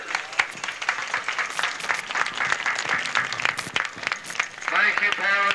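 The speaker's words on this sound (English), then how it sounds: "give these seniors a fine round of applause, all of them, for a job well done" Crowd applause at a 1989 high school football playoff game between Calhoun City and Belmont, honoring the seniors, with dense clapping filling the stadium and a public-address voice talking over it.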